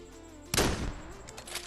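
A sniper rifle fires in the mobile shooter game Scarfall 2.0 on its Mumbai map. One loud, sudden blast is followed by a rumbling tail and fainter shots in the distance.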